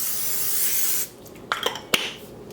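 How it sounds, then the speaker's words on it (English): A steady aerosol hiss of cooking spray onto an oven-proof baking dish lasts about a second, followed by a few light clicks and taps nearby. "So now you want to spray an oven-proof baking dish."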